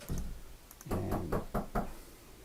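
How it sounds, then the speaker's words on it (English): Knuckles rapping on a house door, a quick tap or two and then a firm run of about five raps, close and clear in a quiet room. "Somebody was knocking at my door,"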